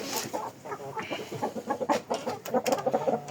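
Close clucking from a rooster or fowl in quick irregular bursts, rising and falling in short pulses, with no talk over it.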